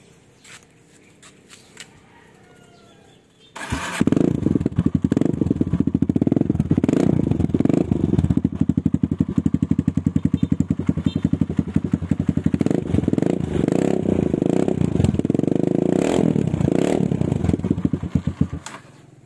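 After a few quiet seconds, a Kawasaki KLX 150 motorcycle engine with a repaired stainless muffler fires up nearby and keeps running with a loud, steady, chugging idle.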